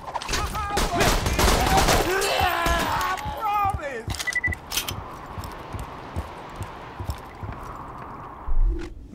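Rapid bursts of gunfire from the video game Borderlands 2 fill the first few seconds, followed by sparser shots and game effects while someone talks over the action.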